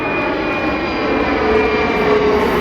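An airplane passing low over a residential neighborhood beside an airport, a loud, steady, droning engine roar with a thin whine, filling the whole moment without pause.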